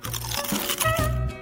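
Loud, close crunching as someone bites into crispy, juicy food in a kitchen, with dense crackly bursts filling a short stretch and no talking.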